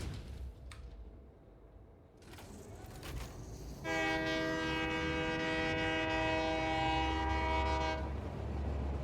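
A train in the Satisfactory factory-building game sounds a long, loud, steady horn blast over a low rumbling engine, preceded by a few seconds of quieter mechanical clatter.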